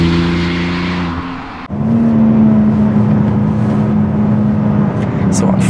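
BMW X4 M with the S58 engine tuned by RaceChip, revving up loudly, then a sharp break for a gear change followed by a strong sustained pull, heard close from inside the car.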